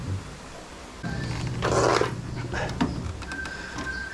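A dog gives a short, fairly loud bark or growl close by in a household, where a window-type inverter air conditioner with no power is being repaired. A steady low hum continues before and after it.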